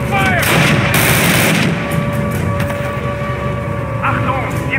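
Gunfire in the 2003 PC game Call of Duty, a loud burst of rapid shots at the start followed by scattered distant cracks and battle noise, with a faint voice near the end.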